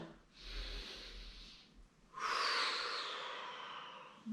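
Deep breathing during a relaxing yoga session: a soft, drawn-out breath is followed by a louder, longer airy exhale that slowly fades, close and clear with no talk.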